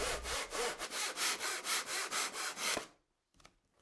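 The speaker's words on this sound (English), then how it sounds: "The beams can, of course, also be cut with a handsaw, using a similar procedure." Handsaw cutting through a wooden ceiling beam, with about a dozen rhythmic back-and-forth strokes close up, followed by a pause and a few faint knocks.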